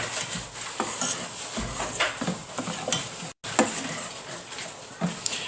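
Onion and ginger sizzle and fry in hot oil while a spoon stirs and scrapes the pan in uneven strokes, close and steady with one brief break.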